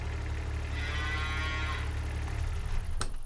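Cattle moo in Farming Simulator 25, a long low drawn-out bellow from a nearby cow over a steady ambient farm hum, ending with a brief click, no voices present.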